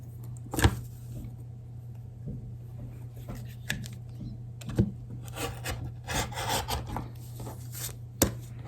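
A dull rotary cutter blade, nicked from running over a pin, trims excess fabric from a foundation paper pieced quilt block, giving several short scraping strokes over a steady low hum, with denser rasping bursts toward the end.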